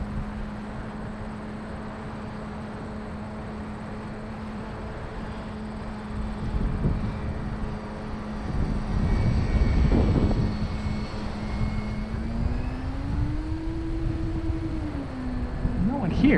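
An E-flite Carbon-Z Cub SS 2.1m radio-controlled airplane flies overhead at an empty field, its electric motor a steady moderate drone that swells midway and bends upward in pitch for a few seconds near the end.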